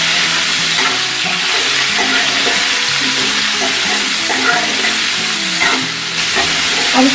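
Pumpkin sabzi stirred and frying in a pan, a steady close sizzle with repeated spoon scrapes and stirs throughout, loud and continuous, with a brief word spoken.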